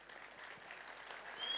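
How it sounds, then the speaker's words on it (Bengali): An audience claps steadily to welcome Mr. Sukanta Mukherjee onto the stage at the Procreative Boishakhi Milan Utsav 2024 event. The applause is a faint, dense patter that swells slightly toward the end. "এই হাততালি আরো জোরে"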